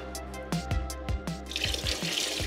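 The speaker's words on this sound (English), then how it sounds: "now watch what happens when I turn the water on." Water runs into a vortex hutch gold-prospecting cleanout unit, with a faint continuous wash and a series of soft dripping, plopping taps close by, gradually building into a steadier splash.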